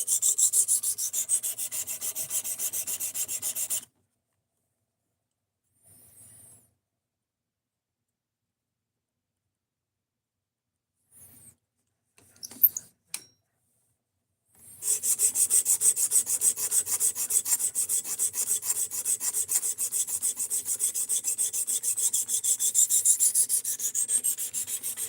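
A knife blade is rasped against a 220-grit stone on a sharpening system, steady rhythmic scraping strokes close up, stopping for a long quiet gap with a few faint clicks, then resuming continuously.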